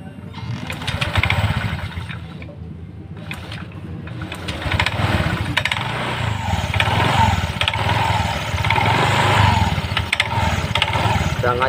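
A motorcycle with a worn sprocket and slack chain starts, then idles loudly and close with a steady, uneven chugging rumble and rattling chain; a voice is briefly heard over it.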